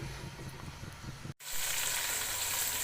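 A kilo of chicken fries in a pan with a steady, close sizzle that cuts out for a moment and then comes back louder and brighter.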